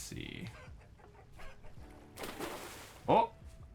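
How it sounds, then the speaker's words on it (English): Chickens clucking in the video game Vintage Story, a few scattered game clucks under a low ambient bed, with one louder squawking burst near the end. "Oh, I definitely hear a bunch of chickens."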